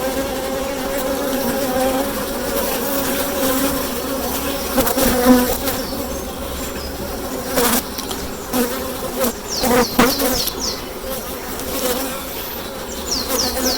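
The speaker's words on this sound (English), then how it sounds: "Very busy bees." A dense, continuous buzz of many honeybees swarming close by around an open National 14x12 hive during inspection, with occasional louder passes and light clicks.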